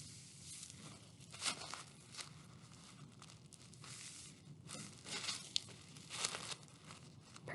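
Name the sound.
paper being accordion folded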